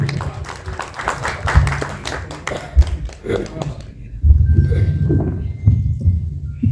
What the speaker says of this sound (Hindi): गीत का जोरदार तालियों के बीच में